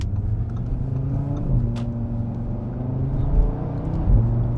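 2018 Audi RS3 Quattro engine idling and revving, a deep close rumble that swells briefly in a couple of throttle blips.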